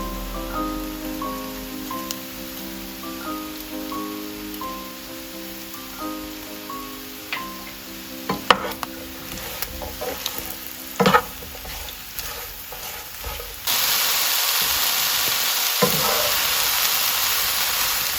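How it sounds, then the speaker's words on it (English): Thick-cut mushrooms sauté in a big pan with salt and pepper, a soft steady sizzle under scattered clicks and stirring scrapes, growing into a louder, brighter hiss near the end; no one speaks. "now that the mushrooms have been sauteed pretty well"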